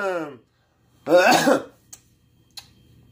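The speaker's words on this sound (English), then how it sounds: "Morning cough. Morning coughing it." A morning cough: one harsh, throaty cough burst from a man, close and loud, after a short vocal sound and followed by faint clicks.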